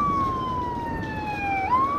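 An ambulance siren wails past in a smooth continuous tone that slides downward and then rises again, heard over road and engine noise from a motorbike ride, with no one talking.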